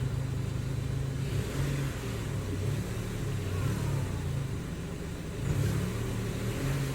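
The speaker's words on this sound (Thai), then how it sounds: "อันนี้อารมณ์จอดเบิ้ล" A parked MG5 car fitted with an Evo Extreme Pro electronic throttle controller, its engine idling with a low rumble that rises in a few short revving blips, steady and fairly close.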